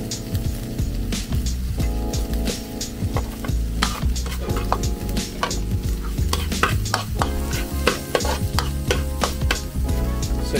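Pancit batil patong topping sautéed in a pan in a Tuguegarao restaurant: busy metal-on-pan stirring and scraping with steady sizzling, close and fairly loud, with rapid irregular clinks throughout.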